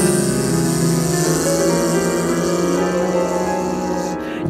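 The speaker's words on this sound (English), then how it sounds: "That's the sound of the dial-up internet, I guess." A dial-up internet modem connects, with dense sustained screeching and hissing tones that hold loudly and steadily before cutting off abruptly at the end.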